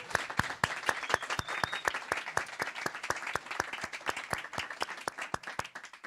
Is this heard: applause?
yes